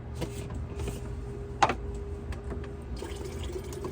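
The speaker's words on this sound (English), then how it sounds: "And fill my water." Tap water runs into a container inside a truck camper, a steady hissing stream with a single brief clunk partway through, close by and with no speech.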